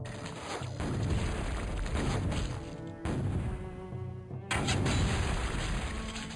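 Cannons boom in the fantasy strategy game Total Annihilation: Kingdoms, heavy repeated shots and crashes over a dense battle mix, with brief drop-outs between bursts.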